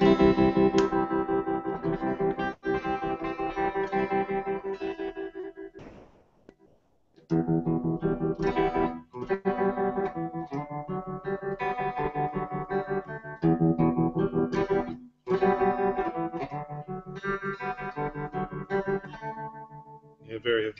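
Electric guitar played through an atmospheric effects pedal with chorus, echo and distortion, ringing out sustained, shimmering chords that swell and cut off in phrases, with brief pauses between them.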